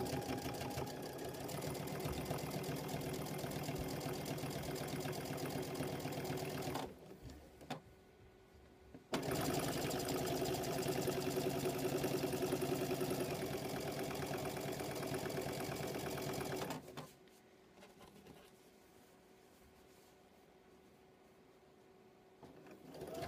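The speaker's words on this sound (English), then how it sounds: "you're going to take it back to your sewing machine, uneven edge, and actually just start right at the end" Sewing machine stitching quilt binding from an uneven edge, a steady close whirring run for several seconds, a brief pause, then another long continuous run before stopping into quiet.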